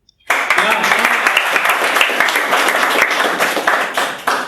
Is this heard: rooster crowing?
no